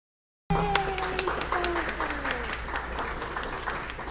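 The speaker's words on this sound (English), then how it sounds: "please give them a big round of applause" Audience applause and cheering for the sponsors at a .NET MAUI developer event, steady clapping from a crowd starting abruptly, with a voice briefly heard over it.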